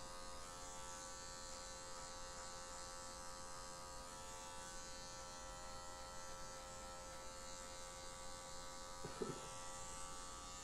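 Electric hair clipper buzzing steadily and close up while cutting a square fade haircut, a constant whine running alone with no talk, a brief louder touch near the end.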